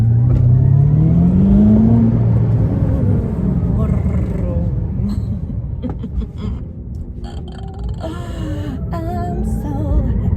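Ferrari SF90 Stradale plug-in hybrid accelerating on a road, its engine note rising loudly at first, then settling into a steady rumbling drive with a person talking over it throughout.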